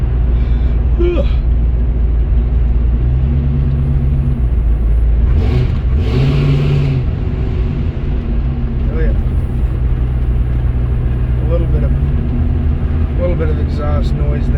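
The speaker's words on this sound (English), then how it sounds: "Bit of exhaust noise there." A Chevelle's engine revs and drones with a low exhaust rumble throughout, rising in pitch with a couple of acceleration swells, while people talk over it.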